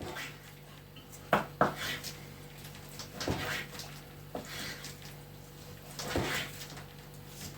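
A knife cuts meat into pieces for homemade Drohobych sausage, giving a few sharp knocks on a board with quieter scraping and handling between them, close and fairly faint.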